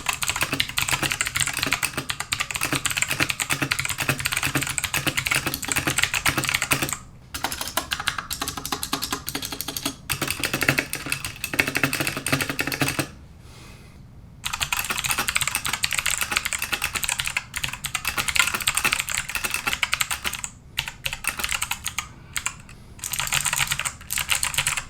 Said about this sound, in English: Here's the sound test, by the way.